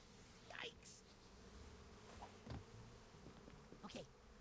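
Buzzing bees in the video game Psychonauts 2 drone faintly over a hissy background, with a few brief louder swells as insects pass close.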